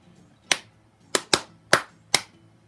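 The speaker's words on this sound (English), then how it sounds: "every time you hear a clap" Five sharp hand claps ring out alone in a quiet room, spaced unevenly with a quick pair in the middle, each crisp and close.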